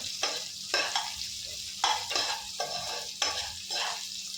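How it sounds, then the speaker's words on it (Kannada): Ginger and green chilli frying in a pan, a steady sizzle broken by repeated scraping stirs at a regular rhythm, close and moderately loud with no talk. "ಶುಂಠಿನೂ ಫ್ರೈ ಮಾಡ್ಕೊತೀನಿ ಸ್ವಲ್ಪ ಫ್ರೈ ಫ್ರೈ ಮಾಡಿಕೊಂಡು"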